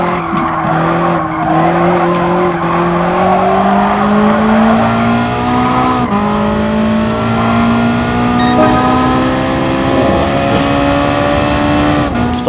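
Race car in GT Sport, its engine whining steadily as it climbs and drops through the gears with tire squeal mixed in, loud and continuous.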